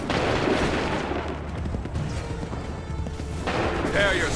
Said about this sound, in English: Make ready. Fire!